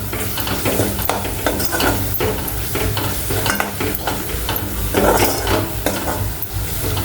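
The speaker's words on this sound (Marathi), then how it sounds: "चांगल्या तेलामध्ये हे सगळे मसाले आपल्याला तळून घ्यायचे आहेत" Spices fry in hot oil with a loud, continuous sizzle, broken by repeated scraping and clinking as a utensil stirs them in the pan.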